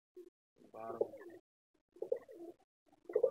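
Caged pigeons coo in a few soft, separate bursts with short quiet gaps between them, close by and alone with no talking.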